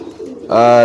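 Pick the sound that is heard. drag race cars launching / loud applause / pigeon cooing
pigeon cooing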